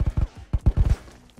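Gunfire in the VR shooter Ghosts of Tabor comes as a rapid, uneven burst of sharp, punchy shots, closely spaced and fairly loud, trailing off into a final isolated crack.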